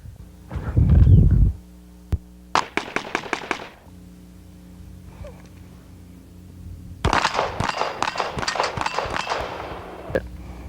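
Gunfire in a video game running the Gunslinger mod: several rapid sharp shots in a quick burst, a lone crack, then a longer string of loud close shots with ringing tails, no voices.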